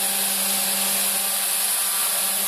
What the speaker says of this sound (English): the thing about an orbital sander is because of the eccentric motion